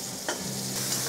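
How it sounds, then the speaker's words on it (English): Onions and carrots frying in an oiled pan while braising pork cheeks, giving a steady close sizzle with a brief stirring scrape partway through. "Touch more oil, and then add onions and carrots."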